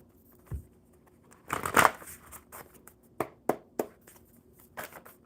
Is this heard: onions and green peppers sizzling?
no